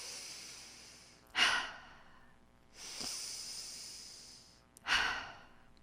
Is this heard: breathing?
yes